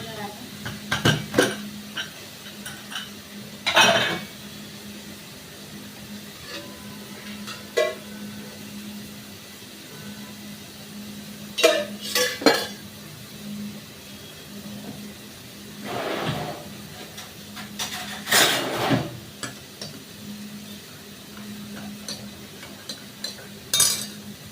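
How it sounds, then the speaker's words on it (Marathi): Cooked dal tempered with phodni in a pot: a quiet low hum broken by intermittent metal clinks and scrapes of a spoon stirring against the pot, with speech in between. "डाळ शिजून घेतली आहे, त्याला मी आता फोडणी देणार आहे."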